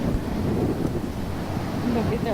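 Ocean surf breaks and wind gusts at the Avon by the Sea jetty on a cold, windy day. The sound is a close, rushing wash of waves under buffeting wind noise on the microphone.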